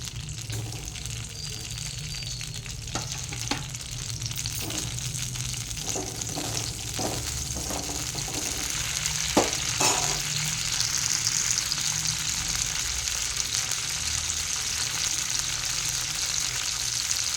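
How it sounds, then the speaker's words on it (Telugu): Green chillies frying in a couple of spoons of oil in a kadai, a steady close sizzling hiss throughout with a few soft pops and stirring taps in the middle. "పచ్చిమిర్చి వేగనిద్దాం"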